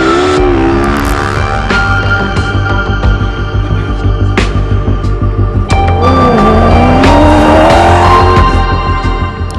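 Dakar 2018 rally vehicles revving and roaring away from a stage start, loud and close, with engine notes rising as each one pulls off and sharp bursts breaking through the steady rumble.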